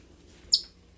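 A pet bird gives a single short, bright chirp close by in a kitchen, rising out of quiet room noise and fading quickly.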